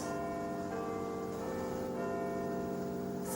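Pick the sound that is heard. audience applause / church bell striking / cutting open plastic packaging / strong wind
church bell striking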